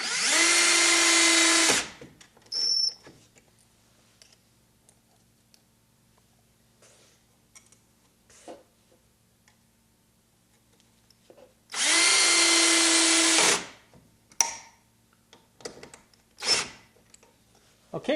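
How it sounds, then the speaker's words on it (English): A cordless DeWalt drill drives an electrical box into a wall while an RV receptacle is wired, running in two loud sustained bursts, one at the start and one midway, separated by quiet handling clicks and light taps. "For this, I'll use my cordless DeWalt drill."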